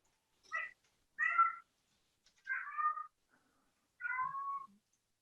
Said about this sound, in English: Someone has a kitty cat.